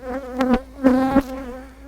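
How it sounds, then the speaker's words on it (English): Honeybees from a double nuc hive buzz right on the microphone, loud and close, in several swelling passes with a clear droning hum that comes and goes. "Bees on the microphone, great"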